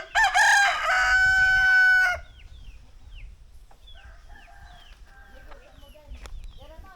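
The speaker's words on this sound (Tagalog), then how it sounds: "Nung manok." Rooster crowing in a rural yard where people fetch water: one loud, close crow lasting about two seconds, followed by fainter clucks and chirps from chickens nearby.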